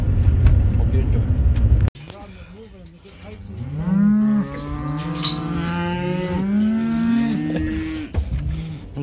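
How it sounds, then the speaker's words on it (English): Cattle being loaded from a corral into a stock trailer let out several loud, drawn-out moos that overlap one another, with a rumbling engine beneath and a burst of rough noise at the start. "So we're gonna try and get his cattle loaded up and move home."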